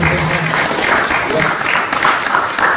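An audience applauds photographer Art Gohel at a photo release event, a loud continuous wash of clapping close by, with faint murmuring mixed under it.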